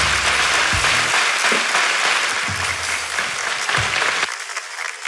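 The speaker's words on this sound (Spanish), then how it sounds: "Un aplauso para ella." Applause for a woman fills the space, steady clapping from a group running loud and continuous for about four seconds before cutting off abruptly.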